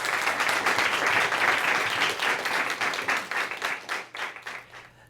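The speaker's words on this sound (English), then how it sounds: "let's have a big round of applause for our middle schools" An audience at a school academic growth and graduation rate awards ceremony applauds middle schools with loud, dense clapping that gradually thins into scattered claps and fades.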